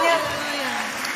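Applause from a congregation at a church revival service, a broad, steady wash of clapping over the whole moment with a voice talking above it.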